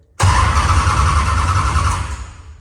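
The starter on an outlaw late model race car engine spins it over, a sudden loud mechanical cranking whir that starts abruptly and holds steady before fading slightly, heard up close with no talk.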